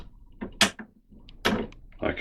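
A reloading press seating die grips a cartridge case during die adjustment: a few short, close mechanical clunks and scrapes in quick succession, separated by brief quiet gaps.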